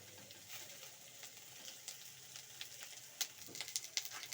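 Onions and mung bean husli masala frying in a little oil in a pan, a soft steady sizzle with light crackling pops that grow busier toward the end, heard alone.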